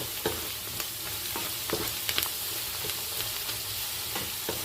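A pan fries and gets stirred while cooking gongura prawn curry, giving a continuous gentle sizzle with occasional soft scrapes and taps of a spatula, close by with no talking.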